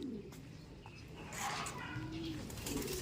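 Homing pigeons arriving home coo softly amid a rustling outdoor background, with faint flutters and chirps nearby.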